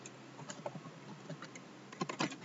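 Quiet, close computer keyboard typing, with scattered light key clicks for about two seconds and then a brief cluster of sharper strokes near the end, with no talking.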